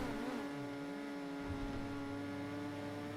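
A Formula 2 car engine in GTA, in a Brazilian Grand Prix race, drones at a steady high pitch with a faint wavering dip early on, sounding oddly flat and glitchy, continuous and close.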